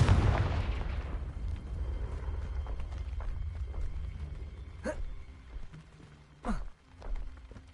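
A Confringo blasting spell explosion in the video game Hogwarts Legacy, a heavy low boom at the start decaying into rumble, followed by softer scattered effect sounds.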